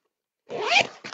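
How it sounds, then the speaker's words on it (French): A zipper on a sewing-kit bag is pulled in a quick, close rasp lasting under a second, followed by a shorter second tug, with no voices. "Là, cette fermeture éclair ici."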